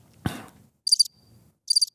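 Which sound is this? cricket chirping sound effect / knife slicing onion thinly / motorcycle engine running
cricket chirping sound effect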